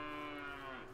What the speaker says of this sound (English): Let that mooing cease.